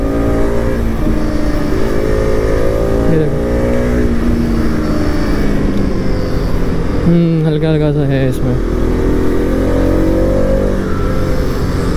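A 2020 Bajaj Pulsar RS 200 BS6 motorcycle engine revs loudly during a ride, its pitch climbing and falling through repeated throttle sweeps while a rider talks briefly over the steady roar.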